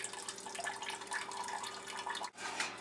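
Homebrewed American amber wort drips and drains from a muslin malt bag into a pot, a continuous close trickle and patter with a brief dip before it resumes.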